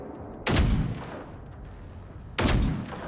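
Two loud, close gunshots from a weapon in the video game Generation Zero, each a sharp blast with a decaying tail, about two seconds apart, with no talking.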